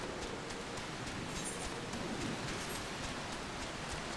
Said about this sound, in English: Cooler when it's not raining.